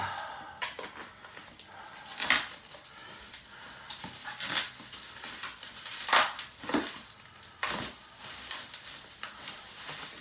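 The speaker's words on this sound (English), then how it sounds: "Carefully unwrap this bubble wrap." Bubble wrap is peeled off a sealed Mechwarrior 2 PC game box, giving irregular close crinkling and crunching bursts with quieter rustling between them.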